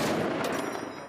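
Gunfire from a soldier shooting in an urban war zone during street-by-street fighting in Aleppo, a dense, continuous burst of rapid shots lasting about a second, loud and close with no speech.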